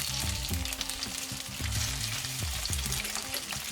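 Chicken sizzles steadily in a frying pan as it browns on both sides, a continuous dense crackle with occasional louder pops and scrapes, no voices.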